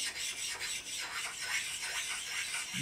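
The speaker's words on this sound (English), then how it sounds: "I'm going to go over the ways with my precision ground stones." Precision ground stones rubbed back and forth along the ways of an Atlas lathe, a close, steady gritty rasp in repeated strokes without talk.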